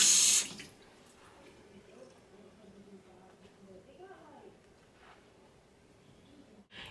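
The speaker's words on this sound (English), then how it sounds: "So I'm gonna go ahead and wash my hands." Hands washed under a running bathroom tap, with soft close splashing and trickling water after a brief loud burst at the start, continuing quietly with small rustles.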